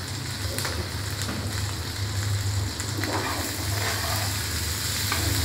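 Dried fish (shutki) frying and being stirred in a pan with coriander powder and salt, giving a continuous dense sizzle with a low steady hum underneath, close and even, with no voices.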